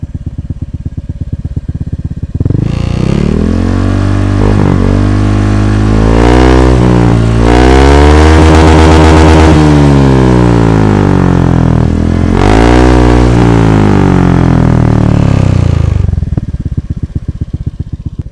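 Motorcycle fitted with a Bobokan bass exhaust, revved hard several times, with deep rumbling swells rising and falling over a steady idle, loud and recorded from a short distance back from the pipe.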